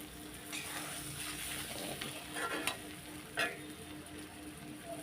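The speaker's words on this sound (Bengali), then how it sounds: "চালটাও একটু ভাজা ভাজা করে নেব" Rice dry-frying in a pan for Bengali muri ghonto, giving a soft steady sizzle and faint stirring scrapes, with a couple of sharper clicks of the spatula against the pan.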